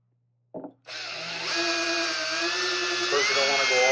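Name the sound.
drill bit drilling out plastic grommets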